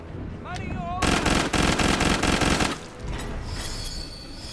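Gunfire in the Killing Floor 2 video game, a rapid burst of loud shots for about two seconds, followed by quieter game ambience.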